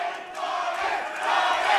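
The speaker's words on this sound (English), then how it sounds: "Listen to the crowd. This is the loudest the crowd's been all night." Arena crowd at an XFC MMA fight roaring and cheering loudly and steadily throughout, swelling toward the end, with no clear voices above it.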